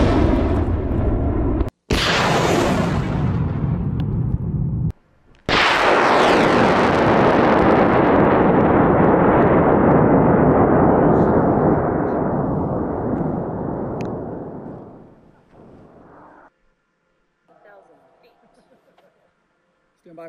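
A two-stage amateur rocket launches after a countdown, and its motor fires with a loud, roaring blast. After a short break, a sustained rush slowly fades into the distance over about ten seconds, leaving faint voices and wind.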